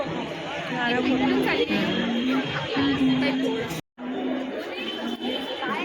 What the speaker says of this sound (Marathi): गर्दीच खूप आहे मा